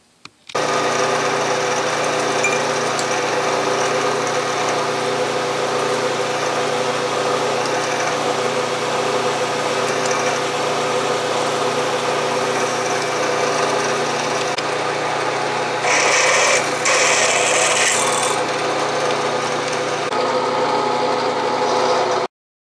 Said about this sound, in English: So let's get started here and do some drilling.